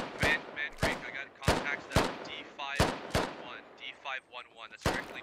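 Gunfire in the military shooter game Squad, with about eight sharp, loud shots spaced irregularly and echoing, and a voice talking in between them.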